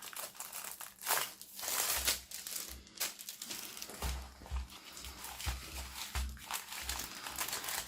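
Plastic packaging of a 30 by 30 diamond painting kit crinkles and crackles up close as it is unwrapped, in uneven bursts with soft handling thumps and no talk.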